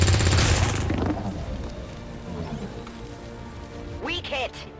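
Soldiers shoot a rattling volley of gunfire in XCOM 2, loudest at the start and then fading into a lingering crackle and game sounds.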